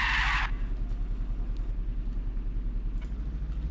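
A truck skids through a handbrake turn in the racing video game Apex Point: a brief, loud, harsh scrape at the start, then a steady low engine rumble.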